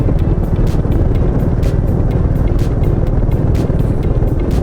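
A Royal Enfield Meteor 350 motorcycle plods through the busy centre of the historic town of Ledbury, giving a steady, loud low engine drone with a continuous rumble and no break across the whole stretch.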